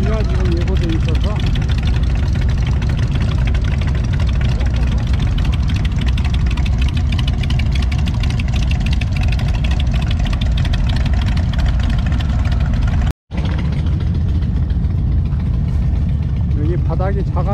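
Motorcycle engine running steadily on a touring ride over gravel ground, loud and close with constant low rumble and wind noise, briefly cutting out near the end while a rider talks.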